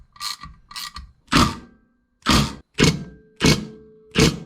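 A driver sinks 1/4 inch metal threading screws into the governor holes of a stripped Predator 212 engine block, giving seven sharp separate bursts of whirring and clicking at uneven intervals, close and loud with silence between.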